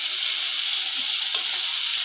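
Prawns for chemmeen mappas fry in a pan, giving a steady, loud, close sizzle that runs unbroken throughout, with a faint scrape or stir near the end.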